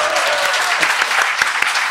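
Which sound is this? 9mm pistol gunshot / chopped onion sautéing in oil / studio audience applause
studio audience applause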